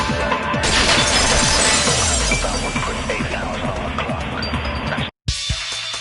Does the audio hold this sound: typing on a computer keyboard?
no